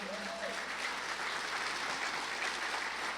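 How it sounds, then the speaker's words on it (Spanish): Church congregation applauding during a Sunday morning service, a full, steady roll of clapping sustained for several seconds, with a brief tonal sound at the start. "Dale un fuerte aplauso en esta mañana."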